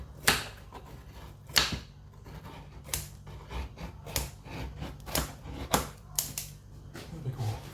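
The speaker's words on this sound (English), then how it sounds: "We'll use the scissors." Kitchen scissors cut through a fried Italian pizza topped with feta, giving about a dozen sharp, crunchy snips in an uneven rhythm, close up and fairly loud.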